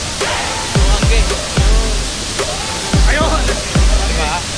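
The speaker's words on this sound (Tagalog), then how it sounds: "Dito na kami mismo sa Mahay High Falls." Majayjay High Falls in Laguna rushes as a steady, loud wash of falling water, with bursts of voices and splashing rising over the roar at intervals.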